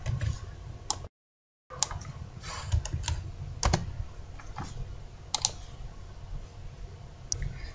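Rapid clicking keystrokes on a computer keyboard during Photoshop editing, an uneven run of close, crisp taps with one short gap, and no talk.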